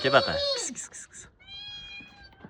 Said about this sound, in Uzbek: Mushuk ham o'zini sotib qo'ydi-da, miyovlab.